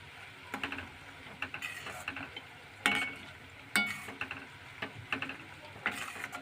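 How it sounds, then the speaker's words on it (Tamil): Curry leaves crackle and spit in hot oil for homemade hair oil, with sharp pops in irregular bursts over a soft, steady sizzle. "இப்போ இந்த கருவேப்பிலை இதில் போட்டுடலாம்"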